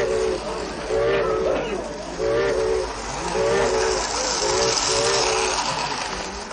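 A Micheline railcar rolls in with a steady hiss and rumble, while a short tonal horn-like call repeats several times over the noise.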